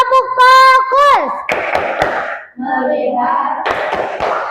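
A classroom of children chants a rhythmic focus clap routine, with voices shouting in unison while hands clap and slap in a patterned beat, close and lively.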